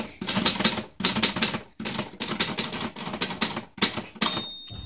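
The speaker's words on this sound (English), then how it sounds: "Oh, did you hear that ding?" A Remington Streamliner typewriter typed in quick bursts of sharp, close key strikes separated by brief pauses, ending in a clear ringing bell ding near the end.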